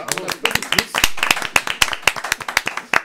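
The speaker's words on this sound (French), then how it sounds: "il y a le chauffeur de salle qui dit « applaudissez » et on applaudit tous." Studio audience clapping on cue at a French TV show taping, close, loud, brisk hand claps in a dense irregular burst.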